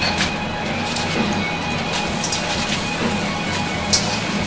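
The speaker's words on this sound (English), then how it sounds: "And now I'm going to throw the greens in." Greens tossed into a hot pan of beef in black bean sauce, giving a steady wet sizzle and bubbling with a few small pops and clinks over constant background noise.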